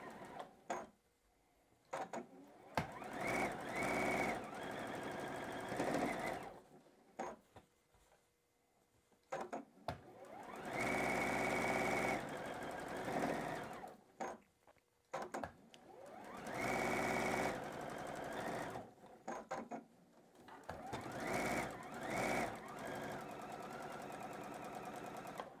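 Sewing machine stitching quilt blocks together, running in several bursts of steady whirring separated by brief pauses, close and clear with no talking.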